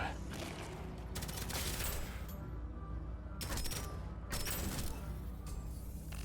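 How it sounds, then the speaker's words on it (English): SMG gunfire in the roguelite shooter Deadzone: Rogue comes in dense, loud bursts of rapid shots separated by short pauses, with explosive booms and game effects mixed in. "These SMGs do a godly amount of damage."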